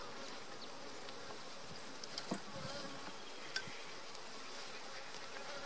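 Honeybees buzzing around an open hive during an inspection, a constant hum filling the background with a few faint knocks and clicks of handling.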